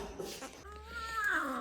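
A cat at home gives one drawn-out, whining meow with a rising then falling pitch, fairly close, over faint household background noise.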